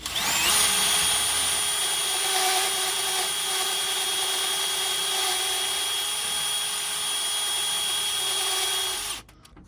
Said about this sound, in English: I'm gonna put a burr on my drill and drill some of this out